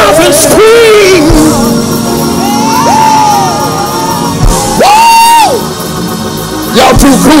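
A church congregation screams and whoops in a loud burst of crowd yelling, with a preacher's sustained shouts rising over the noise.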